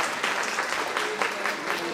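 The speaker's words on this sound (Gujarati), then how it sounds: "જોરદાર તાળી" Audience at a community felicitation gathering claps steadily in a sustained burst of applause, with faint voices mixed in underneath.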